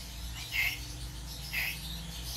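An Asian koel kept as a pet calls twice about a second apart, each call a short, moderately distant whistled note over a steady low background hum.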